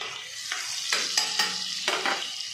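Butter melts and sizzles in a pan with a soft, continuous hiss. Several sharp bursts of scraping and clattering cut in over it, and there is no talking.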